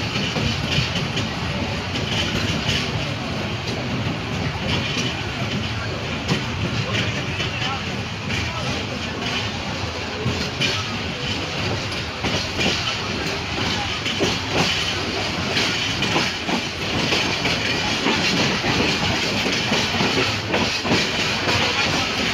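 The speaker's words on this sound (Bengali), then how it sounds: "জয়দেবপুর জংশন পার হয়েই বুড়িমারি এক্সপ্রেস ট্রেনটি মোটামুটি একটু গতিতে চলা শুরু করলো" Inside the Burimari Express gathering speed past Joydebpur Junction, the carriage gives a constant loud rumble and hiss with steady rail clatter, and there is a voice in it.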